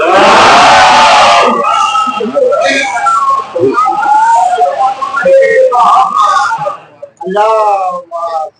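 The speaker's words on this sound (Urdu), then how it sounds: "آپ سب کی سلامتی کے لیے باواز بلند نعرہ صلوات" A mosque congregation at a Muharram majlis loudly chanting salawat in unison, a strong massed voice at first, then breaking into overlapping voices and individual cries that trail off, heard close and full.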